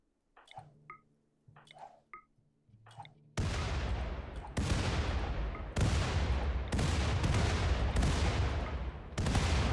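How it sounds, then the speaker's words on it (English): A rapid series of loud grenade blasts in the colony-sim RimWorld, about seven sharp booms with decaying tails following a few quieter clicks, close and forceful with no speech. "That is so many grenades."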